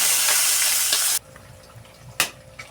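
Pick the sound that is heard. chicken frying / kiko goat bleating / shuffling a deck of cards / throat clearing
chicken frying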